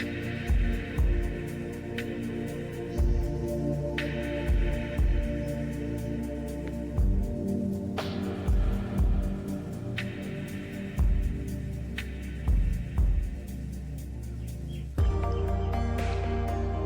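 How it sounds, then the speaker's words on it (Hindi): A sewing machine stitches a blouse sleeve in short repeated bursts of whirring, with brief pauses between runs and a steady background hum. "अब हम सिलाई लगाते हैं।"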